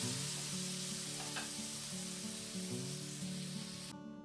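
Shrimp and broccoli stir fry sizzling in a pan, a close, steady crackle and hiss with a low hum running under it, cutting off abruptly just before the end.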